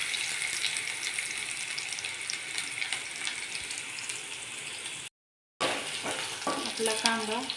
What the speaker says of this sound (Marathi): आता छान कांदा थोडासा परतू द्यावं.